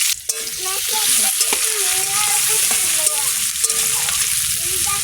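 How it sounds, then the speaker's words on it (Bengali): Onion and green chili fry in hot oil with a loud, close, continuous sizzle, overlaid by scraping stirs and some background voices murmuring. "তেল দেবো পেঁয়াজ দেবো কাঁচা লঙ্কা একসাথে দিয়ে দেবো"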